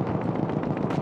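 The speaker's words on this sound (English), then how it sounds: "Enemy machine gun!" Enemy machine gun fire in Battlefield 1 makes a continuous, heavy rattle of rapid shots that blurs into a loud, booming wash over the short stretch.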